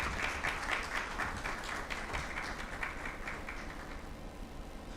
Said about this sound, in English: So that hand clap was for the commissioner.